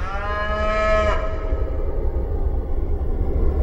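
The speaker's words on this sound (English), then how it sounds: "In the wide open spaces of western North America, free-range cattle are thriving." Free-range cattle on the open range of western North America: one long, loud moo lasting about a second, then a low, steady outdoor rumble.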